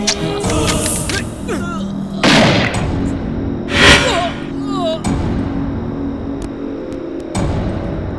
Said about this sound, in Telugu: అదేంటి అలా షూట్ చేసావు? బుల్లెట్ నాకు తగిలింటే?